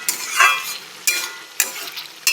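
Ridge gourd with poppy seed cooking in a pan and being stirred: a close, steady sizzle broken by about four sharp scrapes of a spoon against the pan, with no talking.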